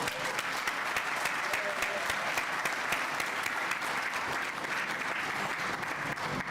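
An audience applauds at a building and construction industry apprentice awards ceremony, a sustained crowd of clapping with distinct individual claps popping through the dense, steady roar, a voice faintly under it.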